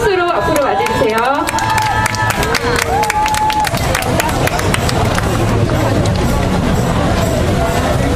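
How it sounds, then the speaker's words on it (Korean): Crowd applause and cheering at an outdoor candlelight rally for women's health rights and contraception policy, continuous and loud, mixed with babble and an amplified voice early on. "네, 큰 박수로 앞으로 맞이해주세요."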